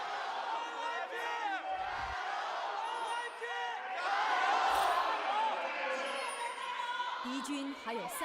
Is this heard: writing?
no